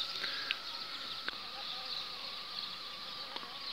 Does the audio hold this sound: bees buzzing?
yes